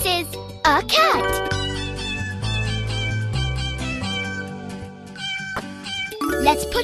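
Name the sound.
cat meowing in a kids' animal video game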